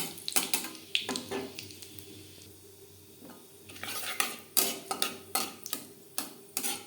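Crushed cardamom and cinnamon are stirred in hot ghee in a pan for carrot laddu, a quick series of close, sharp scraping clinks of a spoon on metal over a faint sizzle, with no talk.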